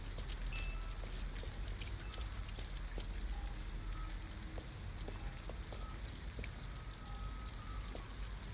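Steady rain falls in the video game Detroit Become Human, a dense continuous hiss of drops pattering on surfaces with scattered louder splashes, constant and without talk.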